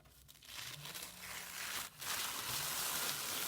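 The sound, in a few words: peeling away layers of a tag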